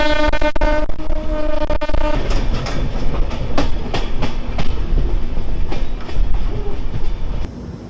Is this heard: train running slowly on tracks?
yes